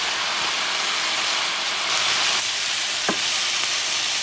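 Vegetables stir-fry in a pan with a steady, close sizzle, a brief scrape or clink of the utensil partway through, and no voices.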